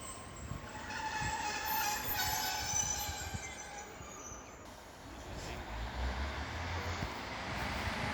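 A Class 156 diesel unit on a Bishop Auckland service passes through Eaglescliffe station with a steady, moderately distant rail rumble and wheel noise, swelling slightly again toward the end.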